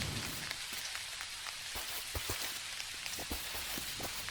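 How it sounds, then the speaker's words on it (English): Steady rain falls in the farming life-sim game Dinkum, a dense continuous hiss of drops with scattered louder patters, heard alone without talk. "Who doesn't like a bit of rain?"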